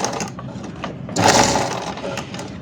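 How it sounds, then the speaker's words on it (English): A zigzag sewing machine seals the edges of small Ankara fabric patches, its stitching a steady mechanical chatter that swells louder midway through and runs continuously close to the microphone. "I prefer to seal it with my zigzag machine"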